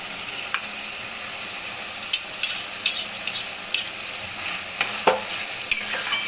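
Goat liver stir-fry cooking on high flame, a steady close sizzle with a run of quick spoon clicks and scrapes against the pan, no voices over it.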